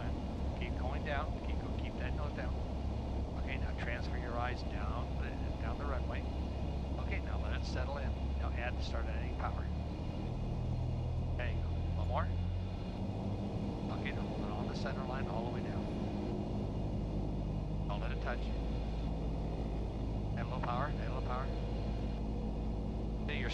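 Light aircraft engine droning steadily through a touch-and-go training flight, a constant loud hum whose pitch shifts partway as power is changed, with an instructor and student talking over it throughout.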